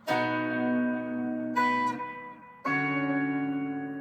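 A few plucked acoustic guitar notes ring out together and sustain, followed by a second plucked group after a short gap, close and clear with no talking.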